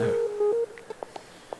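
Phone call tones in the video game Animal Crossing New Horizons: a short sequence of steady electronic beeps shifting pitch, followed by several soft blips trailing off, faint and alone.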